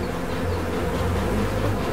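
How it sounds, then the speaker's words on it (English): Bees swarm around wild honeycomb being scraped from a rock face after smoking, their buzzing a close, dense, unbroken drone filling the entire moment. "I'm just covered in honey and bees"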